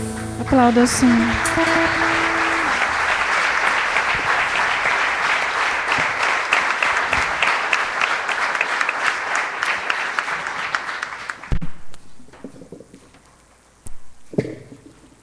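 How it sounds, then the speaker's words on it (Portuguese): A church congregation breaks into sustained applause during a Portuguese worship service, starting with a voice and music and then fading into scattered claps and quiet near the end. "Aplauda o Senhor."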